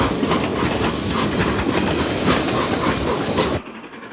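A moving train clatters loudly and steadily along the tracks with dense rhythmic rumble and hiss, close by, before cutting down abruptly near the end; no talk.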